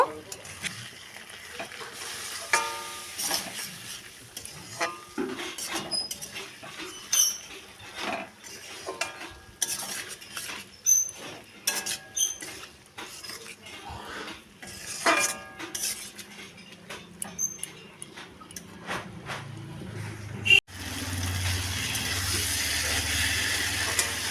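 A spoon scrapes and clinks around a pan in repeated irregular strokes, stirring spices and chopped ripe tomatoes, ending with a steady loud sizzle of frying.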